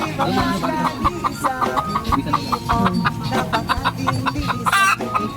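Pet hen clucking close by in a steady run of short repeated clucks, loud and rhythmic, with faint background noise and no talk.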